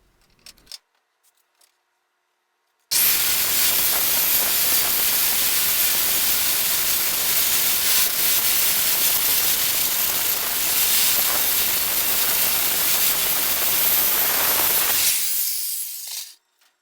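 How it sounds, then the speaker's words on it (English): Circular saw fitted with a carbide-toothed blade cutting a straight line through mild, unhardened steel sheet, a loud continuous grinding hiss lasting about twelve seconds after a few small handling knocks, then stopping abruptly. "since this is mild, unhardened steel, and my circular saw blade has carbide teeth, it's no problem to cut a nice straight line that way"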